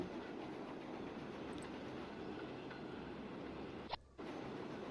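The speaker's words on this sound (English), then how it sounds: "That's going to be a long train now." A long train rolls along the tracks in the video game Transport Fever 2, giving a steady quiet rumble with faint wheel clatter and a brief sharp interruption near the end, with no voices.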